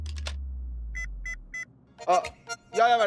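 A telephone rings in a hair salon with three short, evenly spaced electronic trills, preceded by a low hum and followed by people talking nearby.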